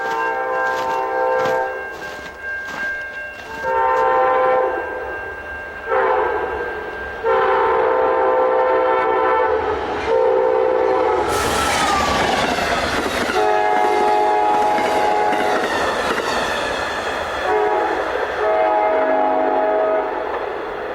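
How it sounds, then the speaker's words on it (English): A passenger train on the Chicago to Pontiac route passes close through town, loud and alone, with blaring horn blasts over a heavy rolling rumble and wheel clatter that swells midway and carries on to the end. "Okay, here we go with the train."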